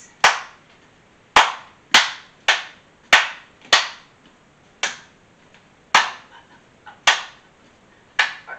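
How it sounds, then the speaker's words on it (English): Single sharp hand claps during a seated couch yoga session, spaced roughly a second apart in a loose beat, close and crisp with quick decay, no talking. "Now let's clap to this."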